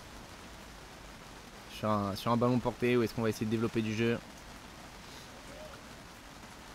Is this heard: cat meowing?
no